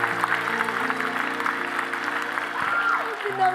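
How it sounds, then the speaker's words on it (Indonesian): Steady applause from a studio audience at an Indonesian dangdut talent show stage, lasting throughout under sustained musical tones. "Boleh minta tepuk tangannya lagi, kasih semangat buat semuanya."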